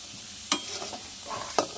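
Potatoes and peas stirred and fried in a pan, with two sharp scraping strokes of a spatula over a soft, steady sizzle, no voices.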